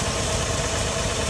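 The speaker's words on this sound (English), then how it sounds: "Original 2F, inline six engine." Original 2F inline-six engine of a 1979 Toyota FJ Cruiser running at a steady idle, a continuous low rumble with even vibration, close and fairly loud, with no talking.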